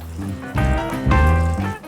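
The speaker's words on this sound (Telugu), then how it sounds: "నీళ్ళు పోసుకోవాలి దీంతో" Water is poured into a pot of dried meat curry, making a fairly loud, gurgling fill. It comes in two or three surges close to the pan.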